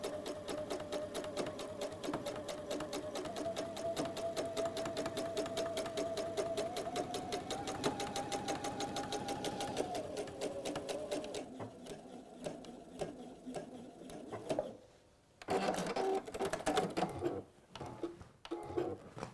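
A domestic sewing machine stitches in a fast, steady mechanical whir that runs continuously, changes speed, then stops and restarts in short bursts near the end, heard close up with no talking.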